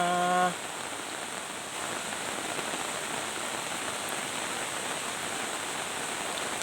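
Steady rain falls through the night over a rural home with trees, a dense even hiss that carries on unbroken for several seconds after a brief voice at the very start.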